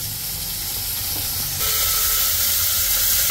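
Steady, loud hiss and sizzle from two large onions and two green chillies sautéing in a pan for veg kurma, continuous with no break.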